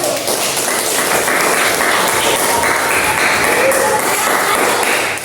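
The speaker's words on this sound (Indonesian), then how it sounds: "tepuk tangan untuk kelompok 1" Classmates applaud group 1 after their presentation during an elementary English teaching practice session on numbers, a steady dense patter of clapping filling the room with some voices mixed in.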